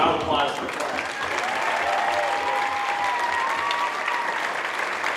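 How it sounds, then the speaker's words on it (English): Audience at a high school spring concert gives the chorus sustained, dense applause, many hands clapping steadily for several seconds with a few voices mixed in. "So a round of applause for the chorus."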